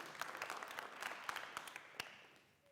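A youth leadership conference crowd breaks into short applause, a rapid patter of hand claps with a few sharp individual claps standing out, fading out after about two seconds.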